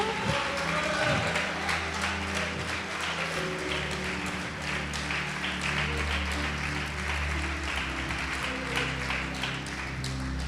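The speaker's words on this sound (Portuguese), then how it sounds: "Pode aplaudir e adorar." A church congregation claps steadily and continuously throughout a worship service, dense applause with a low musical or organ-like hum underneath and faint voices mixed in.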